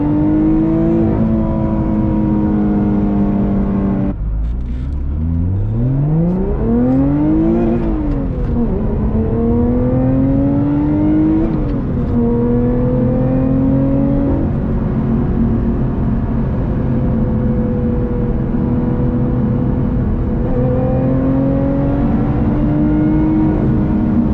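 A 2021 Lotus Evora GT's Toyota V6 engine droning steadily, then dipping and climbing as it revs up through gears, its pitch rising and falling over a long, loud run.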